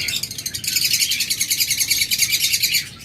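Lovebirds and cockatiels, adult breeding birds, chirp in a rapid, steady run of high tweets, close and continuous, with no talk over them.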